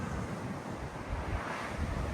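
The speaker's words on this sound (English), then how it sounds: "Started to get splattered with spray off the waves already. I can hear them smashing on down there." Big ocean waves crash and churn under steady gusting wind, a continuous loud roar of surf heard from a cloudy, very windy clifftop high above the water, with wind buffeting the microphone throughout.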